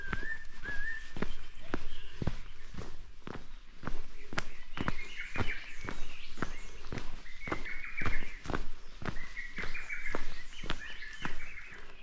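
Many birds sing together at dawn along a mountain trail on Yakdo island, with whistled calls and chirps layered in a steady chorus, punctuated by sharp crisp clicks or footsteps.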